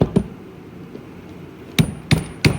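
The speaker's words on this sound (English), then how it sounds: "if you use the back of your impact as a hammer, it lasts a lot shorter" The back of an impact wrench is used as a hammer during a large three-wheeler vehicle build, giving sharp metallic clanks: two early strikes, a faint tap, then three loud hits in quick succession near the end.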